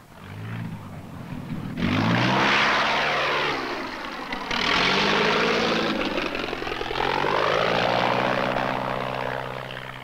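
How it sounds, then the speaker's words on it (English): A propeller training aircraft flies a landing approach, its engine droning steadily and swelling in loudness as it passes, with the pitch sliding down in long sweeps, fairly close and with no talk. "Keeping the aircraft straight and the wings level at the same time as you're trying to lower it down to the ground."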